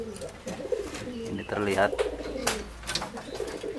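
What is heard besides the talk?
pigeons cooing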